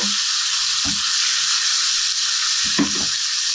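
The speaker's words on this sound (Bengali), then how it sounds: "এক কাপ মুরগির মাংস গোলমরিচ আর আদা লবণ দিয়ে রেখেছিলাম এখন আমি দিয়ে ভালো মতো নাড়া দিব" Chicken pieces seasoned with black pepper, ginger and salt sizzle steadily in a pan of oil with fried garlic, a filling for mini buns. Two brief scraping stirs break through the constant close frying hiss.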